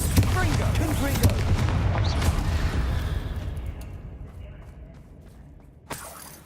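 Fiery blast-spell explosions from combat in the Hogwarts Legacy video game, a dense run of booming bursts that fade over several seconds, ending in one last sharp blast with no talk over them.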